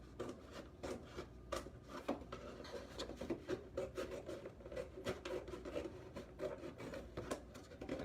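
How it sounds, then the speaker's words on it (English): Blade or knife scoring into a cardboard box to form a puppet's hinge, a steady close rasping scrape with irregular rubbing strokes and small crackles, no talking. "So just cut into the box a little bit."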